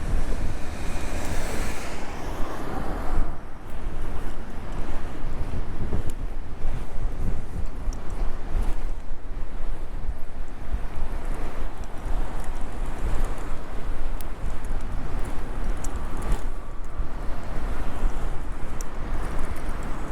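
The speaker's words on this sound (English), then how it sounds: "Very windy today." Strong wind buffeting a microphone on a roadside stretch, a continuous broadband roar with rolling gusts and occasional sharp crackles, loud and constant with no voices.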